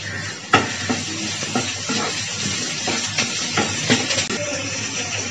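Green chillies frying with onions in a pan: a steady close sizzle with a hiss running throughout, broken by occasional stirring scrapes and small crackles.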